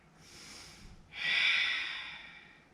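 Deep yoga breathing during a heart-opening flow: a soft breath, a brief pause, then a longer, louder airy exhale that slowly fades, close and alone.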